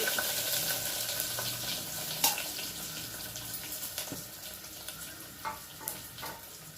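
Chopped onions sizzle and crackle steadily in hot oil with dried red chilli and fresh curry leaves, cooking for a taro root tamarind stew. The sound is a continuous frying hiss with a few sharper pops and clicks, and no voices.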